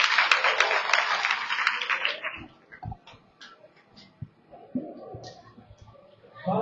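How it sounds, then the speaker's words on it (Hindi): Loud, dense applause from a political rally crowd fills the first two seconds, then fades out as scattered claps and a voice continue more faintly. "जोरदार ताली।"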